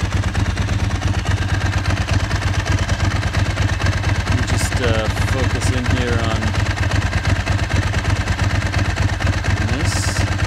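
A Ducati 996 motorcycle idles at about 1,000 RPM, its rapid lumpy twin-cylinder pulse steady and close throughout while someone talks over it.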